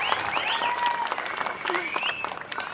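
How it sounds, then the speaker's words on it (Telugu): An audience at a grand fan celebration in Muscat claps for Ramdas, a steady wash of applause with cheers and whistles rising over it, people talking faintly underneath. "మెగాస్టార్ చప్పట్లు పడాలి రామ్దాస్ గారికి."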